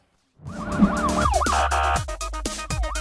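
Wailing ambulance siren from the mobile driving game Ambulance Rescue, a loud rising-and-falling electronic wail over a steady engine drone, with quick yelping sweeps toward the end.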